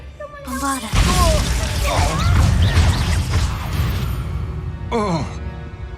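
A Bombarda spell blast in Hogwarts Legacy erupts as a loud, sustained crash and rumble with debris clatter, bracketed by brief character vocal sounds before and after.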